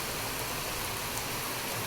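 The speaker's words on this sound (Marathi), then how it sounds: "लांजा या तालुक्यांमध्ये पावसाच्या जोरदार सरी बरसल्यात" Heavy unseasonal rain falling at night in Ratnagiri district, a steady even hiss of downpour with no break, fairly faint and heard alone.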